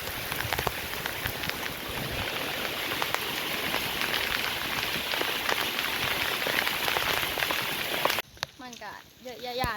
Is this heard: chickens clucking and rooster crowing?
no